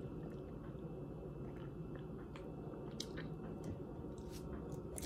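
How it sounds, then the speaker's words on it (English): Someone slurps a drink mixture on day zero of a seven-day snake diet fast, a soft, wet, squishy sucking sound up close, quiet and continuous with a few faint liquid clicks. "Let me slurp some down."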